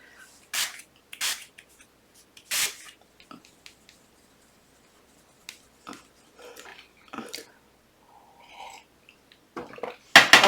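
Makeup setting spray misted onto a face in a few short, close hissing bursts, quick spritzes near the start and another at the very end, with quiet handling sounds in between.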